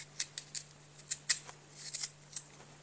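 A knife slices an onion into rings, giving a series of crisp, quiet, close cutting clicks at an uneven rhythm of about a dozen strokes over three seconds.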